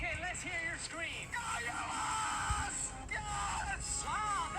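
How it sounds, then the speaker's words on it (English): People in a scream contest, cheering for Team USA, let out loud, sustained screams and yells that rise and fall in pitch. Several voices overlap throughout, with no pause. "Okay, let's hear your scream."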